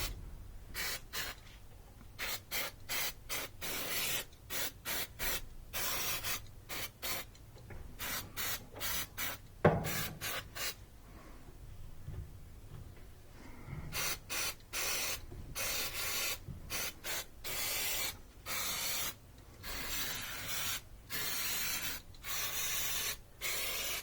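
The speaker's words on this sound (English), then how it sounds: "Spray it in here." Electrical contact cleaner sprays inside a Whirlpool clothes dryer in quick hissing bursts, some short and some held longer, close and loud with brief pauses between.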